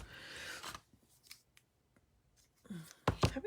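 Several sharp snips of scissors cutting through paper, with a couple of quick bursts at the start and end and quiet handling between.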